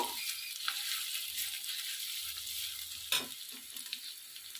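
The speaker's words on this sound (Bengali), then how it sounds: "আদাটা ভালো করে আমি ভেজে নেবো" Chopped ginger fries in a pan for a vegetarian mung bean and pointed gourd dish, giving a steady faint sizzle with a couple of brief stirring scrapes.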